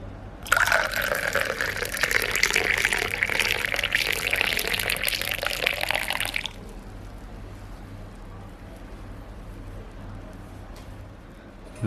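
Hot boiled milk is poured into traditional homemade health-mix flour already dissolved in hot water, a steady splashing pour lasting about six seconds, then cutting off to a quiet room hum.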